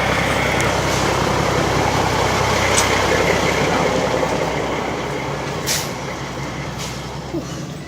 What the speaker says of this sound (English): there's a giant truck. Get out of its way.